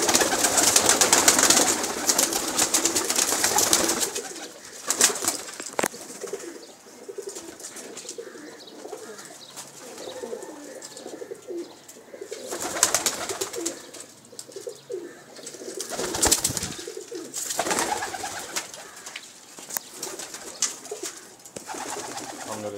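A flock of pigeons coos in low, soft, repeated calls close by, with bursts of wing flapping and rustling as the birds take off and fly, mostly alone without talk.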